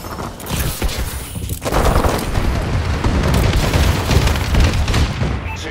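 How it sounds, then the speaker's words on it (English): A friendly bombing run in the video game Call of Duty: Advanced Warfare, with a sustained roar of heavy explosions and gunfire rumbling loudly and continuously after a brief lead-in. "Friendly bombing run incoming."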